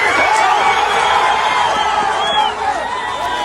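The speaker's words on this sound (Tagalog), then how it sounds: "palakpakan at sigawan na matapos makarinig ng tinig ng senyales ng buhay" Rescuers at a collapsed-building rescue site in Colombia cheer and shout together after detecting signs of life, a steady wash of excited voices filling the scene at close range.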